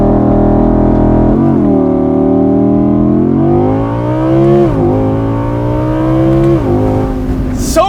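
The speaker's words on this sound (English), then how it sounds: "2021 Audi R8 Spyder with launch control." A 2021 Audi R8 Spyder with a naturally aspirated 5.2-liter V10 launches hard under launch control. The engine roars loud and close, rising through the revs, with several gear shifts breaking the climb.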